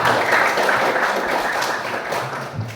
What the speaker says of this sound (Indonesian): tepuk tangan buat Rahma